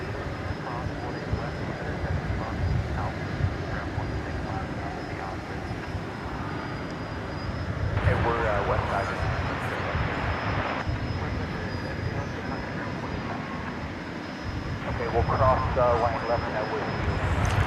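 Boeing 747 jetliner at Dallas/Fort Worth airport, a loud continuous jet engine roar that swells and stays steady throughout, with people talking over it.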